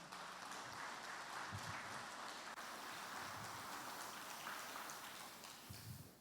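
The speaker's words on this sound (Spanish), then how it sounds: "Dale un fuerte aplauso al Señor." A church congregation applauds during a Spanish-language sermon, a dense, even wash of clapping that sounds distant and faint, like rain on a surface.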